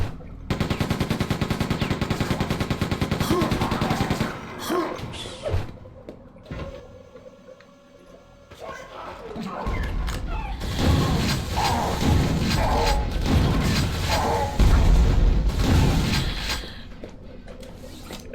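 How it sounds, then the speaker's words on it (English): Rocket launcher and gunfire in Quake 2 on the N64: a stretch of dense, rapid automatic fire, a quieter lull, then heavy blasts and continued shooting, all loud and close. "Shoot a rocket at this guy."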